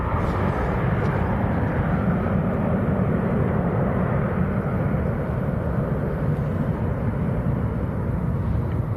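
Ryanair airliner bound for Faro taking off at Manchester Airport after a long ground roll, a steady loud broadband jet roar with heavy low rumble holding throughout without a break.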